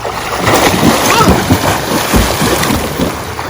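A person plunges under open water outdoors, with rushing splashes and wind buffeting the microphone in a loud, continuous wash of water noise.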